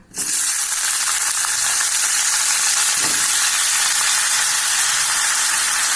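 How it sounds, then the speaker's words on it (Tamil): Raw plantain slices dropped into a kadai with a little oil, frying for a vegetable gravy: a sudden loud sizzle that holds as a steady, close, hissing roar, with a couple of faint clinks underneath. "இப்போ நம்ம இந்த வாழைக்காயை போட்டுடலாம். லேசாக எண்ணெய் ஊற்றிருக்கேங்க, வறுத்துக்கலாம்."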